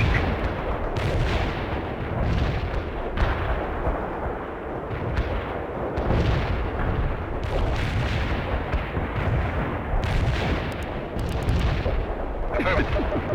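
An artillery barrage in World in Conflict pounds away without letup: dense, overlapping booms and cracks over a deep, rumbling bed of fire. Faint voices sit low in the mix.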